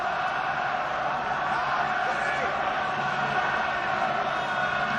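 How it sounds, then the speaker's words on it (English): A large crowd of Glasgow Warriors rugby supporters cheers and roars in a stadium during a European Rugby Champions Cup play-off against Saracens, a sustained, dense wall of voices. "And listen to the Glasgow fans."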